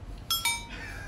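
Drinking glasses clink together twice in a toast at a meal of Korean chicken hot pot, two quick bright taps that ring briefly over a faint room hum.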